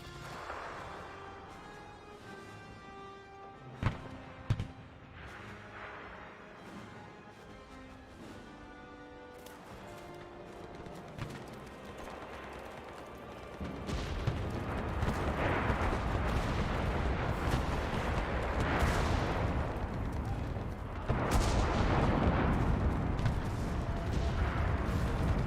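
Bomb explosions in the World War II shooter Enlisted during a Battle of Berlin match: loud rumbling blasts that swell after a quieter stretch of game noise and then keep up a heavy, continuous roar of detonations and gunfire.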